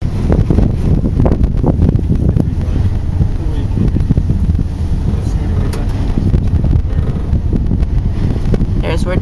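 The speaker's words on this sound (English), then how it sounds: "The wind." Wind gusting outdoors, a steady broadband rush with microphone buffeting that runs the whole time, with low rumble and scattered knocks underneath.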